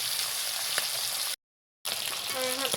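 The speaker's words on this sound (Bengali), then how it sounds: "এটাকে আমি ভালো লাল লাল করে আমি ভাজে নেবো মাছটাকে।" Fish sizzles steadily in hot oil in a pan for a village-style fish curry, a dense close hiss that cuts out briefly to silence before resuming with light stirring.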